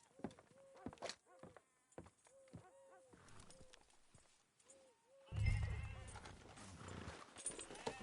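Horse hooves clip-clop at a steady walking pace in Red Dead Redemption 2, with a few tonal animal calls. A louder rumbling wash rises over the hoofbeats in the last few seconds.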